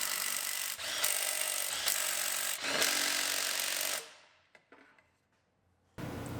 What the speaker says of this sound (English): Now we can bolt the drive shaft to the torque tube.